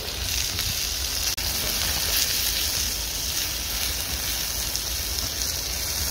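Prawns sizzle steadily in a pan over the highest heat, a continuous loud hiss and crackle that holds evenly throughout with no talking.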